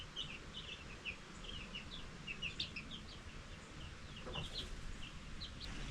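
Chickens cluck and chirp inside a coop, many short bird calls scattered over a constant low rumbling background, moderately near and soft.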